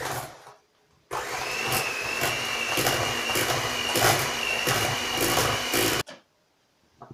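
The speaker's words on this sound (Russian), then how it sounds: "И при помощи миксера все это хорошенечко перемешаем." An electric hand mixer whirs steadily for about five seconds, blending a curd mixture for Easter paskha, loud and close with a constant motor whine that starts and stops abruptly.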